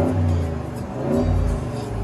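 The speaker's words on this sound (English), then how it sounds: "for those of you who are afraid that they won't be able to get their hands on a Hemi, here it is." A 2024 RAM 1500 Rebel G/T crew cab pickup with a Hemi V8 rumbles loudly and steadily, its deep engine note swelling as the throttle is blipped, with no voices over it.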